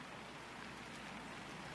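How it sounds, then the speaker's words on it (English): Heavy rain pours steadily over a golf course during a women's championship round, a dense, even hiss with no breaks and no voices. "a pretty nasty day with the rain coming down heavier"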